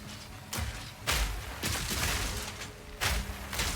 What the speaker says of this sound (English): Just pop some nades on you.